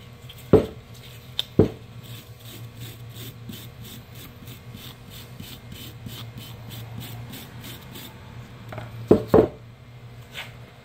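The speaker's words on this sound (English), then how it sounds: "I just want to take and wire brush these a little bit where the hardware sits" Short scraping strokes of a wire brush work over a car's rear brake caliper bracket where the hardware sits, a quick raspy rhythm nearby, broken by a few sharp metallic knocks, under a low hum and without talk.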